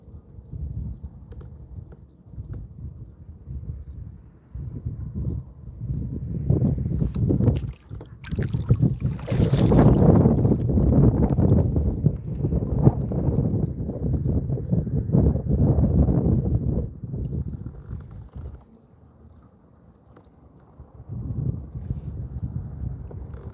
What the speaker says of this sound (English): This wind. Just go away, wind.